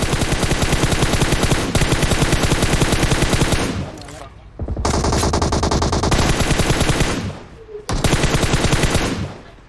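Sustained automatic gunfire from the shooter game PUBG Mobile, a loud rapid string of shots with two short pauses, close and dense, with no talk over it.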